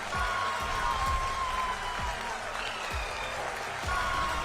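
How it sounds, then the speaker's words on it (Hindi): Applause fills the ISRO Telemetry Tracking and Command Network in Bengaluru after the Chandrayaan-3 success, a steady, fairly distant clapping sustained throughout with faint tonal sounds and low thumps mixed in. "तालियां बजने लगी, नॉनस्टॉप बजी"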